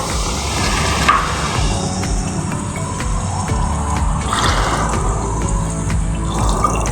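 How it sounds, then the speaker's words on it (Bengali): Water running steadily into a pan for a home-cooked Bengali fish curry (macher rosha), a continuous close splashing pour with faint dripping, no talking. "এখন আমি জল দিয়ে দেবো"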